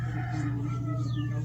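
Chickens at a backyard poultry sale cluck close by over a steady low hum that runs throughout.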